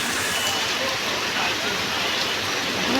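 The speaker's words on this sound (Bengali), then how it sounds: "এই দেখেন তো রাস্তার বৃষ্টি" Steady broadband hiss of rain falling on a street in Jessore, constant and fairly loud throughout, with faint street noise underneath.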